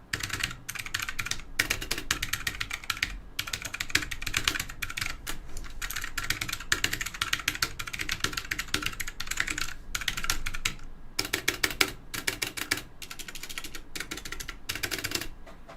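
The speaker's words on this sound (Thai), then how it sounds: "นี่คือสวิชของ Blue Switch" Rapid typing on a Tsunami MK61 Pro mechanical keyboard with blue switches: crisp, clicky keystrokes in close, bursty runs separated by short pauses, with no voices.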